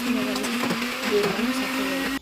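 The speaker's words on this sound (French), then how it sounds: "Après, vous allez bien mixer pour avoir une pâte bien homogène, pas trop solide non plus" A blender whirs steadily as it mixes cane sugar with milk into a smooth paste. The motor hums at a constant pitch for about two seconds, close and loud, then cuts off abruptly.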